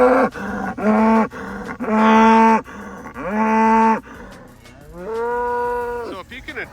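Cattle on a summer pasture moo loudly and repeatedly, several long drawn-out calls from more than one animal following each other closely, near and clear with no talk.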